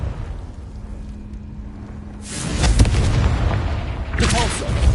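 Fire-blast spell explosion in Hogwarts Legacy: after a quiet hum, a loud broadband boom erupts and rumbles on, with a second burst near the end.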